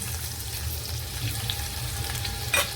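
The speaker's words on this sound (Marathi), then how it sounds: "आपण तेलावर परतून घेऊया आता याच्यामध्येच टाकूया आपण एक कांदा" Onion frying in oil with cinnamon, cardamom, star anise and cloves for an Indian-style chicken soup, a steady low sizzle with a brief louder crackle near the end, no talking.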